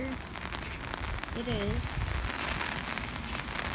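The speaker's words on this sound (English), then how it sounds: "Here's the rain." Heavy rain falls steadily outdoors, a constant broadband patter on surfaces that swells and eases slightly, with a person talking briefly over it.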